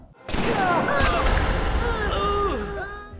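Gunfire in a film action scene at a mafia hideout erupts as a sharp, loud burst and rings into a sustained, chaotic wash, with shouting voices mixed in.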